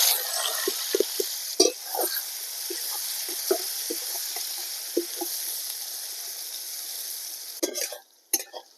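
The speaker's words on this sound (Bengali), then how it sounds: "এবারে কেটে রাখা পেঁয়াজ দিয়ে দিচ্ছি।" Chopped onions sizzle in hot oil seasoned with bay leaf and whole cumin, a steady close frying hiss punctuated by stirring scrapes and clinks, ending with a few sharp knocks.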